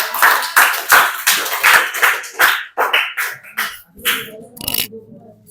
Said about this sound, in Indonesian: Oke, aplaus dulu untuk teman kalian.